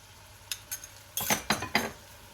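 A spoon stirring full-fat thick yogurt into a Kashmiri red chili spice mix in a pot over low heat, a few soft scrapes followed by a quick burst of three or four louder wet stirring strokes.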